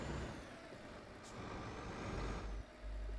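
A heavy truck in Euro Truck Simulator 2 brakes hard behind the player with a hiss of air brakes over a steady engine drone and road rumble, close and continuous, with one sharp burst near the end.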